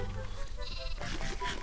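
A sheep in Minecraft, a lightning-charged sheep from a mod, gives a few short, close bleats over steady game background noise.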